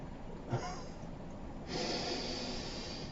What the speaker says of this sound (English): And push the breath out completely, all the way, all of the breath.